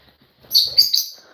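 Pet lovebirds, small parrots, let out a short burst of high, sharp chirps and tweets, loud and close, with no talking.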